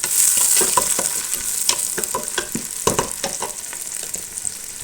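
Curry leaves go into hot oil with softened onions for a biryani base and crackle loudly, with a bright sizzle and repeated scraping from the stirring spoon.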